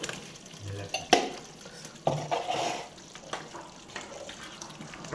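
Tomato and ginger paste stirred into dal in a pot for Rajasthani dal baati, with intermittent spoon scrapes and light clinks over a soft hiss, moderately close.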